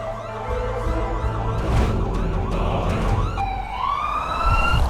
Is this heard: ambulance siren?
yes